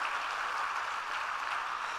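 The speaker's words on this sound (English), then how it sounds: "Can we please have a huge round of applause" Steady, dense applause from a conference audience fills both seconds, close and even with no pauses and no voices on top.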